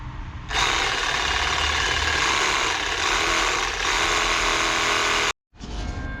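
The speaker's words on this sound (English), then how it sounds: "So when you're threading like this, always use the clamp on anything sort of bigger than an inch" A pipe threading machine cuts a thread on a pipe clamped in a vise, a loud, steady mechanical whir running for about five seconds, then cutting off abruptly and starting again briefly, heard close with no talking.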